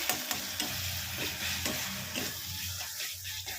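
Egg curry masala sautés in oil with a close, crackling sizzle, broken by repeated stirring scrapes against the pan.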